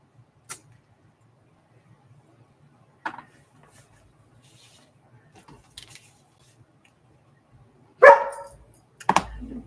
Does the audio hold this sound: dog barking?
yes